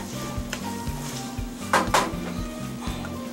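Spaghetti is stirred in a pot on the stove with a soft sizzle, over a low steady hum. Scraping strokes repeat at an even rhythm, and two brighter knocks against the pot rise midway.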